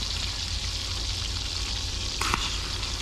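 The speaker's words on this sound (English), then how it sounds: "let's start to put some mushrooms in the skillet" Morel mushrooms fry in a skillet, giving a steady, close hiss of sizzling across the whole stretch, with a brief clink or stir near the end and no talking.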